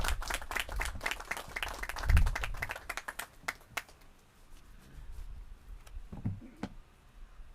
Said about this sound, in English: Let's give them another round of applause because this is a day to celebrate